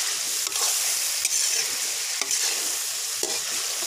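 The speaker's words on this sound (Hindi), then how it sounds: "तेज़ आंच के ऊपर इसको फ्राई करना है ताकि इसका अच्छा सा कलर आए।" Chicken karahi frying on high heat in a street-style Peshawari pan, a steady loud sizzle filling the clip with a few sharp stirring scrapes at intervals and no voices.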